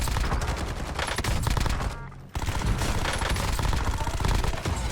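Rapid automatic gunfire rattles in a video game as shots come at the player. Dense bursts run almost continuously, loud and busy, broken only by a short gap midway.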